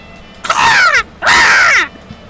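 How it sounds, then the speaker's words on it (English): Two loud, harsh caws from a crow, each about half a second long, close by and alone, with a short gap between them. "He's cawing like a bird."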